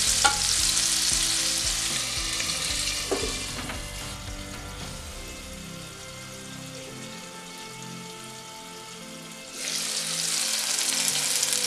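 Grapes frying over low heat in a pan with fennel seeds, a steady crackling sizzle that eases down through the middle and swells again near the end, with no voices.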